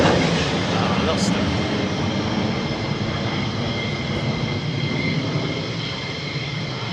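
F-15 jets roar overhead near an airbase, a loud, continuous broadband rumble that slowly fades, with a person speaking briefly over it.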